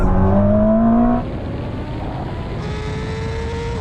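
Ferrari SF90 and BMW M1000 RR rolling on from 50 mph in third gear, a loud engine whine climbing in pitch at first, then a steady roar mixed with heavy wind rush.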